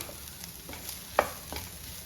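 A utensil stirs spiced scrambled egg filling in a frying pan, with soft scraping strokes and a low steady sizzle beneath, one brief sharper clink near the middle.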